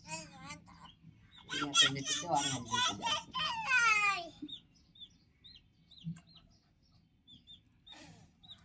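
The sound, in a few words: chicken clucking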